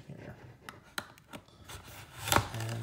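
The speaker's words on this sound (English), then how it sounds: "Just cut the tape." A knife slices through packing tape on a cardboard box holding a WD My Passport SSD, with a few short scratchy cuts and then a sharper rip near the end, heard up close.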